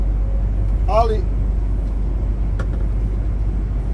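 A MAN truck drives along a road with a steady, heavy low engine drone inside the cab, while people talk over it.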